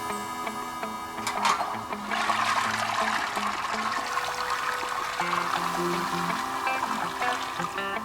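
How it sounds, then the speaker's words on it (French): A toilet in the game Unpacking flushes with a rushing, trickling water sound over a steady game music background, lasting several seconds. "J'ai bien tiré la chasse"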